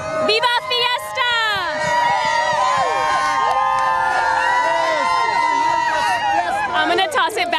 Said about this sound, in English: The crowd still super excited, even at the end of the parade.